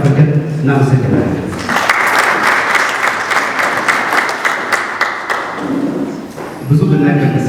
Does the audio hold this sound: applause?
yes